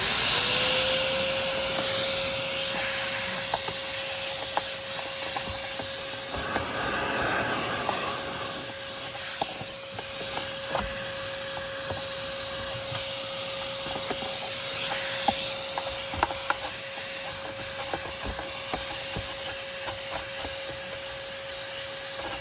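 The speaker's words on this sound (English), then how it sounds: "Let me get a vacuum in there and see if I can vacuum." A vacuum cleaner runs steadily and loudly with a constant whine and airy hiss, sucking debris from the rear air vent of a Honda Pilot, continuous and alone for over twenty seconds.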